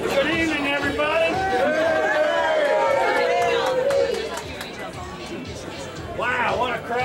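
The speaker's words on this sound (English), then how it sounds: "Wow, what a crowd" Dense crowd chatter fills a car dealership at the unveiling of a new 2010 Chevy Camaro, a steady close hubbub of many overlapping voices that dips slightly near the end and swells again.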